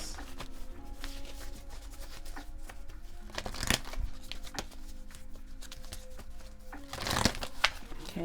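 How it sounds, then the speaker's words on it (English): Tarot cards are shuffled by hand in short, soft riffling bursts, close and quiet, with a couple of sharper snaps of the deck against a faint background tone. "Just need to shuffle a few more times."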